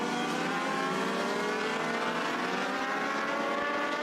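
Race cars lap the half-mile oval at Echo Park Speedway, a dense, continuous engine roar from several cars at full throttle that stays loud and unbroken throughout.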